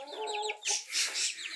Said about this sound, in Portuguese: Uma galinha aqui. Outra ali. O galo.